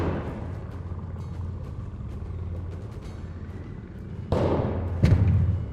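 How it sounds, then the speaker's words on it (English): Two loud, close shotgun blasts from the video game ARC Raiders, the second a few seconds after the first, cutting through a steady low rumble of game ambience. "that sounded like a shotgun"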